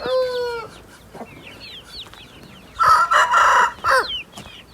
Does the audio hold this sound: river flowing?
no